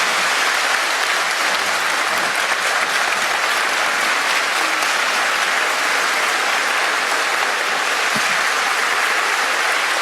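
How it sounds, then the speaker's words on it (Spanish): A large audience at a religious-freedom symposium claps loudly and continuously, a thick, uniform wash of applause that holds steady for the full ten seconds. "Fuerte el aplauso."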